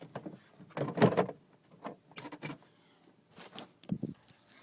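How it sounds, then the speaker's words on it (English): A Pontiac Vibe door panel is set back onto the door, giving a few faint, close plastic knocks and clunks with pauses between them. "And then we're just going to set the door back on there."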